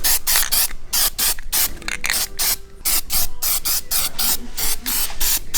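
Aerosol rust sealant sprayed onto a car chassis in repeated hissing bursts, each lasting a fraction of a second to a couple of seconds with short gaps, loud and close, with no talking.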